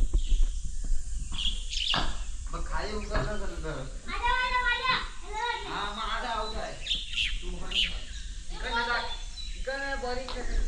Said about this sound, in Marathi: पक्ष्यांचा आवाज बघा, किलबिलाट बघा